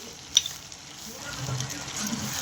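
A cluster bean stir-fry is stirred in a pan, giving a soft sizzle with a sharp clink of a utensil near the start and quiet scraping after, close but faint.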